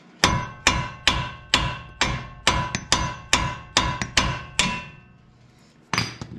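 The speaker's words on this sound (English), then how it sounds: "You can use whatever tool you want to knock this tie rod out, but I'm a firm believer in the good old hammer." A hammer strikes steel steering parts while knocking out a tie rod during a front-end rebuild on a 1999–2007 vehicle: about ten sharp metallic blows in a steady rhythm, a pause, then one more hit.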